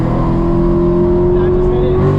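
A bolt-on E85 Corvette C7 Stingray pulls at full throttle, a loud, steady engine drone heard close up from inside the car.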